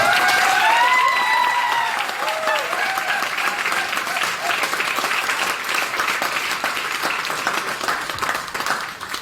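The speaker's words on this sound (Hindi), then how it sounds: "एक बार जोर से ताली बजा सकते हैं।" Loud audience applause in a trade center hall after a talk, many hands clapping in a dense steady wash, with cheering voices and whistles rising over it at the start.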